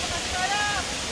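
A very tall waterfall at a mountain camping spot roars as a steady, close, broadband rush of falling water, with a faint whistling tone rising briefly above it midway.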